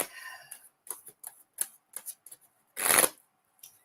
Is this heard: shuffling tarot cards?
yes